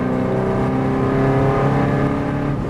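A V8 race car engine roars loudly and steadily up close as the car accelerates in fourth gear, with a continuous droning note and no voices.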